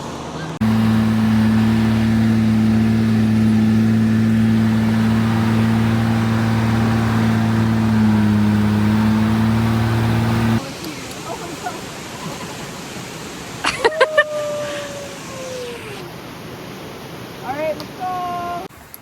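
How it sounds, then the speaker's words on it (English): A big Mercedes truck climbs a mountain road near Skagway, Alaska, its engine a loud, steady droning hum for about half the time before it cuts away to quieter scattered clatter and brief tones. "we're taking this big Mercedes truck up the mountain to get us up there safely and more easily"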